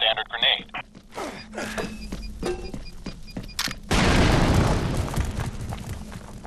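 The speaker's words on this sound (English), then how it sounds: "Pick up a few more subsonic grenades and toss one through that broken wall." A subsonic grenade explodes in the video game Fracture, a sudden loud broadband blast about four seconds in that rolls on as a sustained rumbling roar, following game clatter and a voice.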